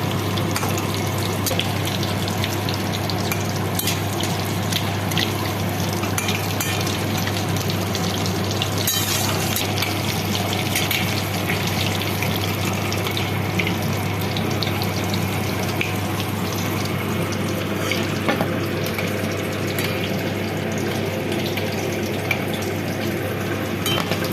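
Battered fish fries in hot oil with a continuous, even sizzle and crackle throughout, close and moderately loud, with occasional small clinks and no talking.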